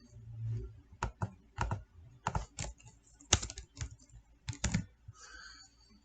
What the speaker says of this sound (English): All we'd have to do is type in the URL for the blog